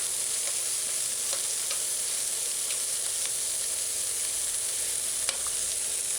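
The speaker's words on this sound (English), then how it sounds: "just allow it to saute because you don't want it to burn" Garlic sautéing in a pot on low heat, an even, steady hiss of oil sizzle with occasional faint pops and ticks, close and moderately loud, no voices.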